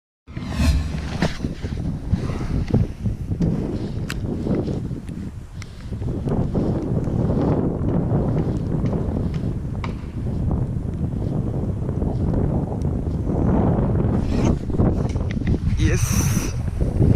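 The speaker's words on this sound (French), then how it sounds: "là ça souffle un peu fort pour pouvoir pêcher correctement" Strong wind gusts sweep across a pond during pike fishing with lures, a loud, continuous roaring buffet that swells and eases without pause.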